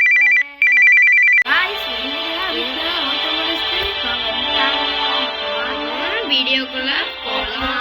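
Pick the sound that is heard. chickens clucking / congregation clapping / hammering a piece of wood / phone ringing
phone ringing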